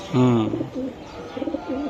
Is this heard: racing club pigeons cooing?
yes